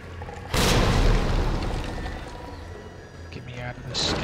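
A grenade explodes in Resident Evil 2, a sudden loud blast that leaves a long rumbling decay behind it, with faint game sounds afterward.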